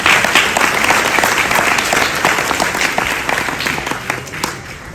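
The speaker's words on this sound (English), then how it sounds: "let's give them another round of applause" Lively audience applause at a banquet, loud and continuous with individual sharp claps standing out, gradually easing off toward the end.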